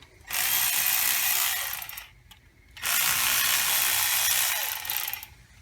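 Ratchet wrench loosening the 12 millimeter brake caliper and bracket bolts on a Honda Civic front wheel, two long runs of rapid clicking close by, separated by a short pause.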